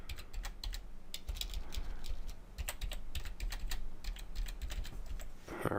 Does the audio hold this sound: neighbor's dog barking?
no